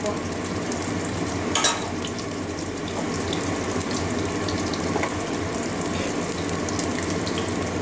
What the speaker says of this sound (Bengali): মাছগুলো লাল লাল করে ভেজে নেব